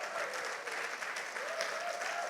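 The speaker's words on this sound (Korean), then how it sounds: "우리 유진수 이사장님께 여러분 뜨거운 박수를 보내주시기 바랍니다" A university lecture audience claps steadily in dense, even applause for the board chairman, moderately distant and with no voices over it.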